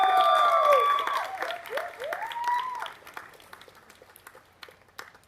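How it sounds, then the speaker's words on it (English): Applause from the audience at the 2018 College of Environmental Design commencement, loud at first with scattered cheering voices, then thinning into fading, sparse claps toward the end. "Another round of applause, please."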